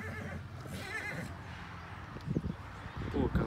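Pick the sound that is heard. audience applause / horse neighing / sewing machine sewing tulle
horse neighing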